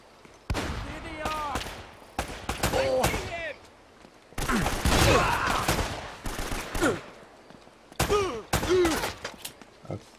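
Gunfire in the video game Uncharted: Drake's Fortune comes as rapid bursts and fusillades of shots, loud and close, broken by short gaps, with someone talking over parts of the action.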